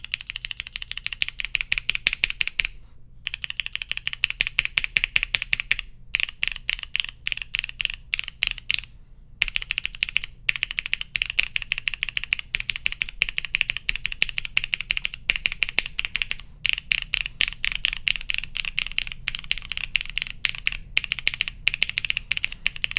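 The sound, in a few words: typing on a mechanical keyboard with ABS and GMK keycaps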